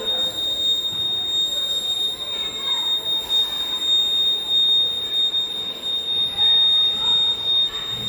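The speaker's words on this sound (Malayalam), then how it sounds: "ആരെങ്കിലും വരുമ്പോൾ ലേസർ രശ്മിക്ക് തടസ്സമുണ്ടാവുകയും ബസറിൽ നിന്ന് അലാറം മുഴുകുകയും ചെയ്യുന്നു" A steady high-pitched electronic alarm tone from the buzzer of a laser security system sounds continuously, with faint background noise beneath it.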